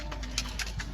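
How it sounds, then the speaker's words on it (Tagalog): Pigeons give soft, low coos in a few quick repeated pulses, close by and fairly quiet. "So, yun nga mga kalapatids, no?"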